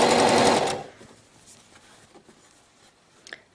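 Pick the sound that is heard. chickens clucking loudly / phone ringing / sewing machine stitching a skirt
sewing machine stitching a skirt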